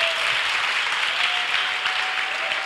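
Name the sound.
audience applause for the guests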